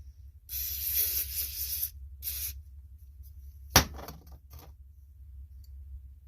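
Aerosol carburetor cleaner sprays in a long hissing burst on an Agri-Fab garden tiller carburetor, then a shorter one, followed by a sharp knock and a few faint rustles.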